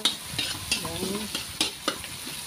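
Onion, garlic and minced meat for spaghetti sizzle in a pan while a spoon stirs them, giving several distinct scraping strokes over a continuous close frying hiss.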